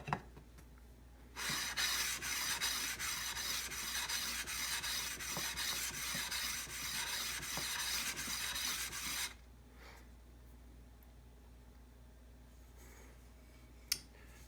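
Jet JPM-13CS planer blades being honed on a 400 grit stone, a steady close rasping rub lasting several seconds, then stopping to near quiet with a faint click at the end.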